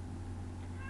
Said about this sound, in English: If you hear meowing, it's the cat.